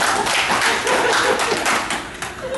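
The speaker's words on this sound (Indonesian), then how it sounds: "Oke, tepuk tangan Bapak." Audience clapping for a participant during a public speaking session, a short, steady round of hand claps in a room, fading slightly toward the end.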